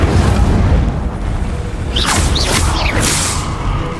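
An Incendio fire spell in Hogwarts Legacy, a loud booming burst with whooshing, crackling flare-ups layered over steady game ambience.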